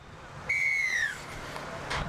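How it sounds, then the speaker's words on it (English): A single sharp referee's whistle blast at a junior girls' touch rugby match, steady then sliding down in pitch, about half a second long over a noisy outdoor crowd background. "I love a good whistle blow."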